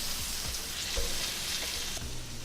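Chicken sizzles and fries in a pan with a steady crackling hiss and occasional soft stirring or scraping, close and continuous, with no talking.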